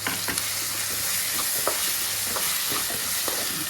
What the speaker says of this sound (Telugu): ఇప్పుడు జింజర్ గార్లిక్ పేస్ట్ వేసుకొని అది పచ్చివాసన పోయే వరకును ఫ్రై చేసుకుంటాం.